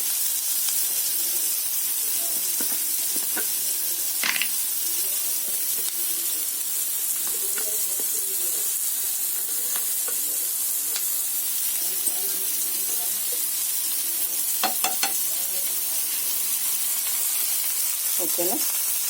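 Ginger garlic paste fries in a pan for tomato mudhagaya, making a steady hissing sizzle that stays even throughout, broken by occasional clinks and scrapes of a spoon.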